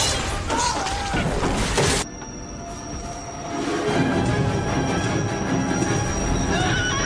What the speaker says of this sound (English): And then they all die in this subway train accident.